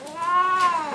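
A cat with a sore on her back lets out one loud, close, drawn-out meow with a clear rising and falling pitch while antibiotic ointment is applied during treatment.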